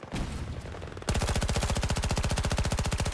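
Rapid automatic gunfire in Battlefield 2042, loud and steady, following a brief burst of mixed game noise and then rattling on continuously in a fast even rhythm.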